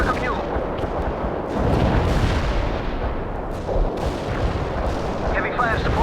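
World in Conflict video game artillery barrage: heavy, repeated explosions and deep rumbling impacts crash in close succession, loud and continuous, with a short burst of voice chatter toward the end.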